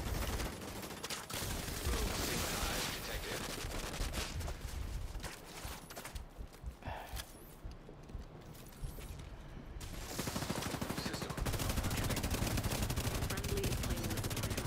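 Sustained automatic gunfire from the video game The Division 2, rapid loud bursts that nearly fill the whole stretch, thin out briefly in the middle, then resume heavily toward the end.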